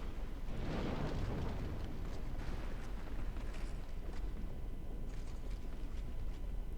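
Low, roaring fire crackling in a room of the Iron Keep in Dark Souls 2, a continuous rumbling whoosh with a louder swell early on, steady and fairly close.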